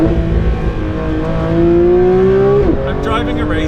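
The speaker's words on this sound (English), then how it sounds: "I'm driving a race car on the road." Porsche 992 GT3 RS driven on a public road, its engine holding a loud steady rising tone that climbs under acceleration, then a sharp gear change breaks the pitch near the end.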